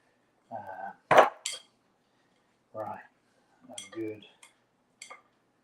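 Currant scone dough being mixed in a bowl, heard as scattered clinks and knocks of a utensil against the bowl in several short, separate bursts with quiet gaps between, close and fairly soft.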